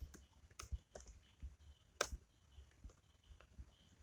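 Keystrokes on a computer keyboard while entering a network configuration command, a quiet scatter of light clicks with one sharper tap near the middle, close and alone with no talk.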